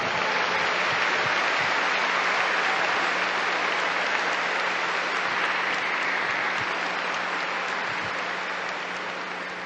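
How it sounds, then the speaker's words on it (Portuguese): A congregation at a Catholic evangelization talk claps for the Lord, broad sustained applause from a large crowd that continues evenly for nearly ten seconds with a faint steady hum underneath, tapering only slightly at the end. "Give the Lord a big clap for that."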